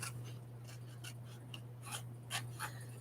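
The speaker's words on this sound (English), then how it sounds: "I want a fussy cut around this because it's got so many words all over it" Scissors fussy-cut around a printed paper picture, snipping faint and intermittent over a steady electrical hum.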